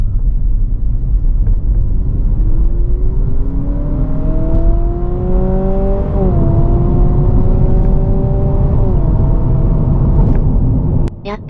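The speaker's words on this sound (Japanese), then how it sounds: "やっぱり多段式トランスミッションみたいに、途切れ途切れに加速していくよな。" Honda Civic e:HEV hybrid car accelerating in steps on an urban expressway at night, a steady interior drone with rising motor whine that climbs, drops and climbs again, ending abruptly.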